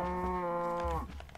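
A cow in the video game Minecraft gives a single drawn-out moo of about one second, fairly quiet and heard alone.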